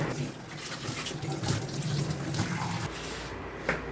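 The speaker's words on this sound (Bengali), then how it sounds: "ঠিক আছে, আমি এই কাপ প্লেটটা মেজে নিই" Running water from a tap splashes steadily while a cup and plate are washed, with faint clinks of dishes in a continuous close gush.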